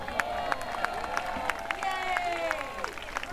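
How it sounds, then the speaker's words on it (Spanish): A crowd at a Michael Jackson tribute event claps and cheers to vote for contestants, a dense steady wash of applause with scattered shouts and voices mixed in throughout. "ahora van a votar la gente con sus aplausos"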